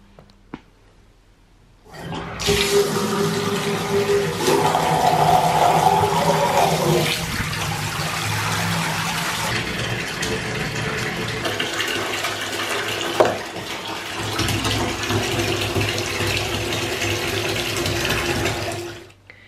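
A bathtub fills with water in a home bathroom, a loud, steady, close rushing roar from the tap that starts suddenly after a short quiet and runs continuously to the end, with no talking.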